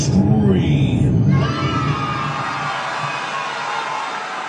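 A crowd screams and cheers loudly in a burst that peaks in the first second and then tapers into a sustained, fading roar.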